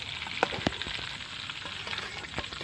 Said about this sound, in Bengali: একে একে চিংড়ি মাছগুলো সবগুলো ভেজে নেবো আমি এইভাবে